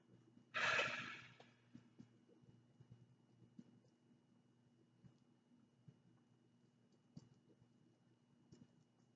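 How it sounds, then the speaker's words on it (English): A person takes one deep breath in and blows it out hard during a medical assessment, a single short loud exhale near the start, then quiet faint breathing and small ticks. "take a deep breath in and blow it out and hold it out"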